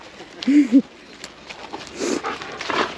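A German Shepherd lets out a short pair of high, whiny barks up close, followed by quieter soft yelps and snuffling sounds.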